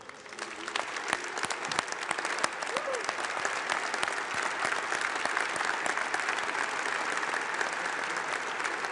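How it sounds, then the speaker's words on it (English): An audience at a US Special Operations Command ceremony stands and applauds in a sustained, dense round of clapping that holds steady and fairly loud throughout. "I would ask them to stand for one more round of applause, please"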